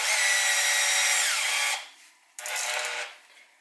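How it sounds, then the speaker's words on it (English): A power drill whines at high speed as it bores a 2mm hole through a metal oil passage in a CRF50 motorcycle engine, stops briefly, then runs again in a second short burst. "We gotta drill out the oil passage with a 2mm bolt, or a 2mm drill bit."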